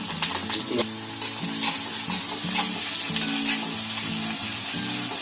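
Chopped garlic, green chili, curry leaves and onion sizzle and crackle in hot oil with mustard seeds for a village-style jackfruit curry, a steady close frying hiss with stirring clinks throughout.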